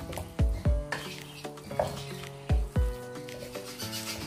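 Meat coated in masala sautéed and stirred in a pan, with clattering utensil scrapes and thumps over a steady sizzle and some ringing tonal clinks in the background.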